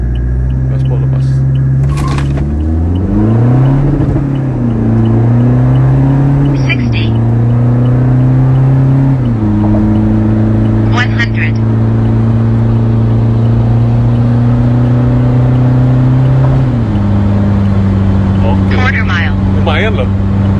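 A stage 3 upgraded Toyota Innova with the 2GD diesel engine accelerates hard at full throttle, its loud droning engine note climbing through several gear changes with brief dips between shifts, heard from inside the cabin.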